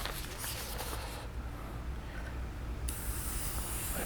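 Airbrush spraying thinner through its nozzle during cleaning gives a steady, close hiss that shifts in tone partway through and keeps going to the end.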